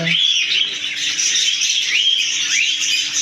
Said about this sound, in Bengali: অনেক পাখি অনেক কিচিমিচির অনেক সুন্দর